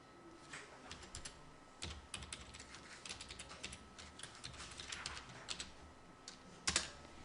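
Someone types on a computer keyboard, sending out quiet, irregular bursts of clicking keystrokes with occasional sharper taps and short pauses, close and alone with no talking.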